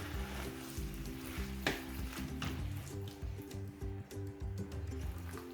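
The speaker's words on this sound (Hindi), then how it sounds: "2-3 मिनट तक मैं इसे अच्छी तरह भून लूँगी ताकि सारे मसाले जो हैं वो अच्छी तरह से मिक्स हो जाएं टमाटो पेस्ट के साथ" Tomato paste and spices fry in a pan for a chicken lasagna sauce, producing a soft, continuous sizzle with occasional stirring scrapes and small bursts, fairly quiet throughout.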